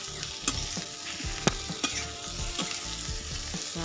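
Boiled potatoes and eggs fry in a pan for an egg curry, a steady close sizzle broken by sharp stirring knocks and scrapes at uneven intervals, with no voices.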